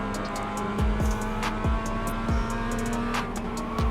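A Mazda MX-5 race car in iRacing brakes on a descent at Ledenon, its engine humming steadily while repeated quick downshift blips and rushing tire noise pulse through the close, continuous sound.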